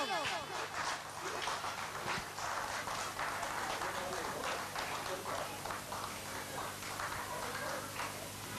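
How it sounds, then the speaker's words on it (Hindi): Continuous applause from an audience at a school prize ceremony, a dense steady patter of many hands held at an even level for the whole stretch, with some background voices mixed in. "इसमें तो बिल्कुल कंटिन्यू ताली बजाइए आप लोग"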